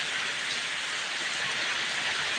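Rain pours steadily outside where backyard chickens are kept, a dense even hiss filling the air without a break, loud and close, with no one speaking.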